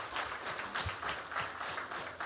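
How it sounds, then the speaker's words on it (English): An audience at a national reading competition claps for a winner, with steady moderate applause from a crowd and a voice faintly under it. "Can we clap hands for her"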